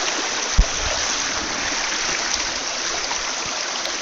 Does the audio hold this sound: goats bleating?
no